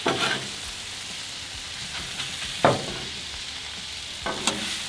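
Beef and onions frying on a Blackstone griddle give a steady close sizzle, broken by a few brief scrapes or clatters of a spatula on the flat-top.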